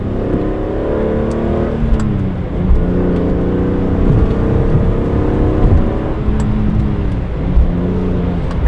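BMW E46 M3 with SMG gearbox accelerating, engine droning and rising in pitch with a gearshift dip near the middle, steady and close throughout.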